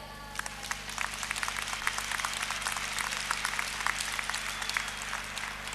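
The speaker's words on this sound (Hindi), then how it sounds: "여러분 그렇게 생각하신다면은 크게 박수를 치십시오" An audience at a life-achievers program gives continuous, moderately distant applause, a steady wash of many hands clapping over a low background hum.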